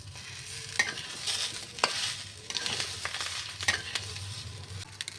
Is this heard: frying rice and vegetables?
yes